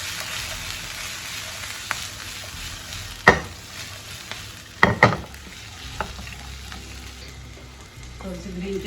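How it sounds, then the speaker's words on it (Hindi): Onions and capsicum fry in oil with garlic in a pan and are tossed, giving a steady close sizzle broken by a few sharp clanks and scrapes of the utensil against the pan. "सब्जियां डाल देंगे, प्याज और कैप्सिकम, इनको भी टॉस कर देंगे।"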